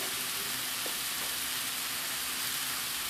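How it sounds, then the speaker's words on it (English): Honey-marinated racks of lamb sear in a hot pan, a dense, even hiss of sizzling fat that stays steady and fairly close, with one faint clink early on. "let those sear for at least maybe 3 minutes each side"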